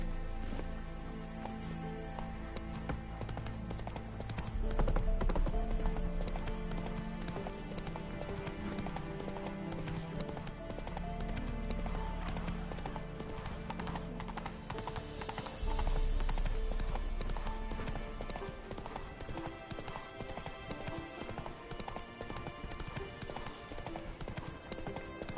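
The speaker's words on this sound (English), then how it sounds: "Geralt, get on your horse." Geralt's horse gallops in the Witcher 3 video game, a fast continuous drumming of hooves under a dense, loud game soundtrack, steady throughout with no pauses.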